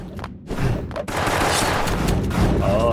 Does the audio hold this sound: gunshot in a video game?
yes